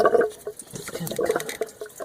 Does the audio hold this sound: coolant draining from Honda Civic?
yes